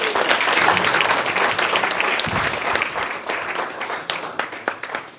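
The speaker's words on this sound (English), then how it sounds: "A round of applause." Wedding guests applaud the father of the bride as he rises for the first toast, a full, close burst of clapping from a sizable crowd that thins slightly toward the end.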